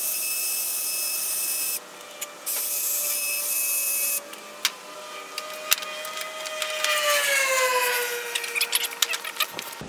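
A power drill whines steadily, starting and stopping a few times, with a rising and falling motor pitch as its bit circles around to enlarge a hole in wood.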